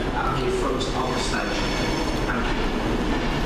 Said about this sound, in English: It sounds like a Pendolino.